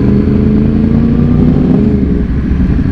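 Yamaha R1 motorcycles idle and rev together in traffic, a loud, close, steady engine rumble with a low throbbing drone and no speech.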